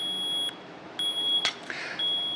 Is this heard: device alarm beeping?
yes